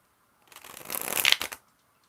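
A deck of playing cards being shuffled up close, a single brisk riffle of rapid flicking clicks that swells and cuts off cleanly, with no talk.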